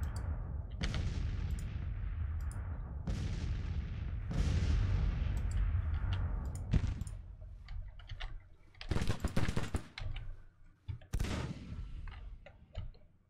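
Cannon and rifle fire in the Civil War strategy game Grand Tactician, heavy booming artillery shots at irregular intervals followed by sharp crackling volleys of gunfire, fairly loud and without talk.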